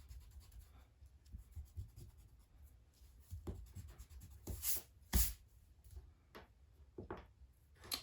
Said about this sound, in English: there might be some pencil lines that I don't want, so I'm going to erase those really quick.